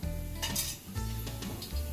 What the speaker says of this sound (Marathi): तेल थोडंसं उकळून द्यायचं, त्याच्यानंतर 1 चमचा जिरा